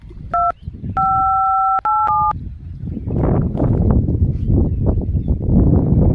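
A phone number is dialed on a keypad: a short series of loud electronic tone beeps, one held longer, followed by a person talking with some rustling.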